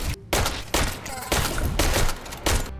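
Repeated gunfire bursts from the ranged weapons of the video game Tails of Iron, loud and close. The shots come in heavy clusters separated by brief gaps, over a dense, noisy game soundscape.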